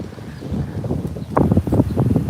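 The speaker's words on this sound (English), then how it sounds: "It's getting pretty windy." Wind gusts blowing across an outdoor microphone on a walk in Pennsylvania, a steady low rumble that swells louder partway through, close and continuous with no speech.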